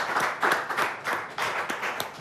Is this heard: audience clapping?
yes